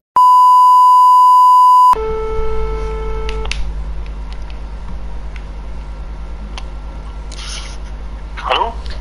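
A phone line gives a long steady dial tone, then number-pad beeps and ringback tones during a prank call about a caravan listing, loud and close over a low hum.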